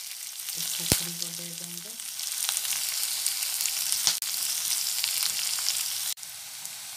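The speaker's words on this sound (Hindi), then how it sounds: "उसको लाल होने तक भूनने देंगे दोस्तों" Khukhdi mushrooms fry in a pan with a steady, close sizzle that runs throughout, and a short spoken phrase comes in near the start.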